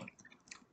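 Someone takes a close, quiet bite of food thickly spread with spicy fire sauce, giving a few soft crunching, chewing sounds in a brief moment with no talk.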